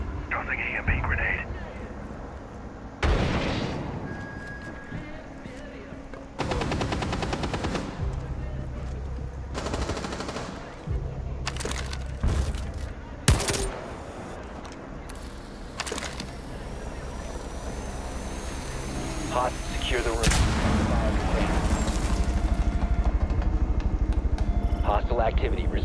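Gunfire bursts and explosions in Rainbow Six Siege, Border map team deathmatch secure area, come as repeated sharp volleys and booms over a long stretch, with people talking throughout.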